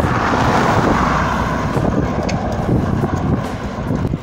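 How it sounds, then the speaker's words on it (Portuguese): Strong headwind on an empty highway near Morro Paxixi buffets the microphone with loud, low rumbling gusts, continuous and close, with a faint vehicle-like hum beneath. "Olha o vento"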